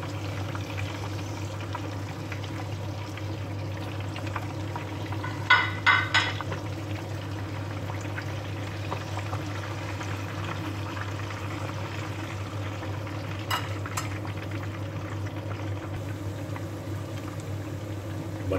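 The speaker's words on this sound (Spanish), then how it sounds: "es poner las alitas de pollo. Y dejar que se nos dore bien" Chicken wings browning in a pan give off a steady, even sizzle that runs the whole time. A few brief clatters stand out above it at two points, and nobody speaks.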